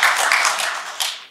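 A short burst of audience clapping at a public gathering of retired generals, brisk at first and then quickly fading away.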